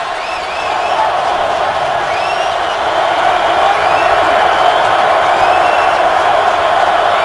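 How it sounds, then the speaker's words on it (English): Stadium crowd at a 2013 NFL game between the Bengals and Ravens in Baltimore, a steady loud roar of cheering and whooping that swells slightly over the seconds, with faint broadcast talk beneath. "The crowd is into it."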